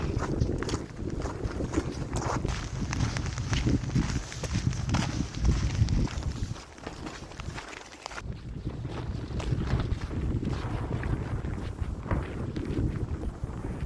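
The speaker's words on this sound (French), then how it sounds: "M'énerve ce vent." Steady, roaring wind buffets the microphone for the whole stretch as a continuous rough rumble outdoors, with no voices.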